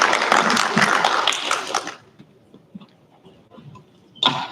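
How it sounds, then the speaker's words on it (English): Audience at a panel discussion on African women's land rights applauds the panelists, a dense burst of clapping for about two seconds that drops off to faint scattered claps, then a brief final swell. "Another very big round of applause"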